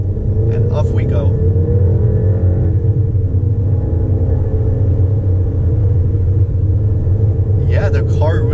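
Low, steady engine rumble from a 2020 VW Tiguan R-Line 2.0 TSI 4Motion with 230 hp, accelerating in sport mode. The drone is heard from inside the cabin and stays loud throughout, while someone talks over it.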